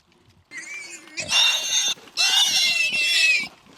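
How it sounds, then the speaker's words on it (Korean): Pigs on a Danish pig farm squeal and grunt in long, loud overlapping bursts, two sustained high-pitched cries separated by a short pause, heard close with no talk. "쉴 새 없이 꿀꿀대는 돼지들."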